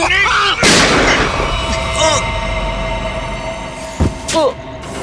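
Two sharp, broadband gunshot bursts from an Indian TV crime drama, the first loud near the start and a second near the end, ring out over tense dialogue and a steady dramatic music bed.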